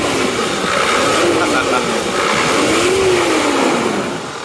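A 1995 Toyota Land Cruiser 80 engine revs up and down twice, its pitch rising and falling, loud and close, with a hum underneath.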